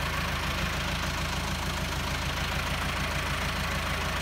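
A small 385 tractor engine idles close by in a steady low rumble with a faint rhythmic knock, running continuously without voices.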